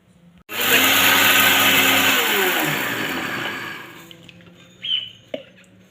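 A kitchen mixer grinder whirs loudly and steadily for several seconds while grinding roasted spices and turmeric powder for a capsicum pickle, then winds down and stops, followed by a couple of soft clinks.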